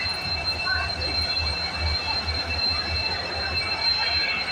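Train arriving at the newly opened Kanigiri railway station, a steady close rumble with a sustained high metallic wheel squeal running throughout, faint crowd murmur beneath.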